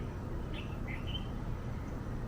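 Birds chirp a few times in short, faint bursts over a steady background hiss on an Oahu morning, with no voices heard.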